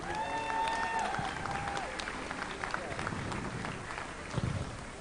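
Audience applause at a raw powerlifting nationals awards, a broad sustained clatter of many hands with crowd murmur, under some chatter and an electronic tone early on.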